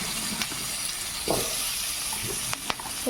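Bay leaf and squash hitting hot oil in a pan, giving a steady soft sizzle with a few brief crackles and pops, close by and fairly quiet.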